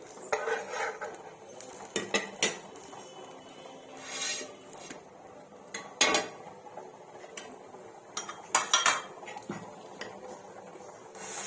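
Steel plates and utensils clink and scrape while idli-batter uttapam is served in a home kitchen: scattered light metallic taps and rattles, some rubbing, heard close and alone without talk.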